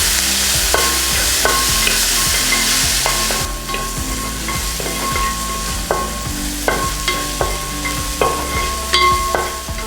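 Onions with salt sautéing in a pan for Kerala beef curry, a spatula stirring them in a regular scraping rhythm over a steady sizzle, close and loud.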